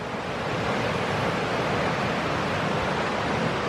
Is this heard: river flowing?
yes